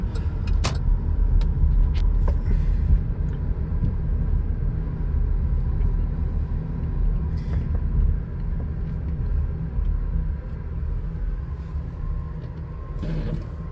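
Cars driving through tornado-damaged streets of Marshalltown, Iowa, a steady, loud road rumble with vehicles swelling and fading as they pass nearby, no voices.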